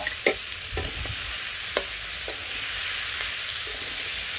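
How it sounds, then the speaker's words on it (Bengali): Pumpkin pieces fry in a pan for a village-style vegetable curry, giving a continuous close sizzle punctuated by several sharp spatula scrapes and clacks. "তো একটু ভেজে নিলাম, এখন কুমড়োগুলো দিয়ে দিই"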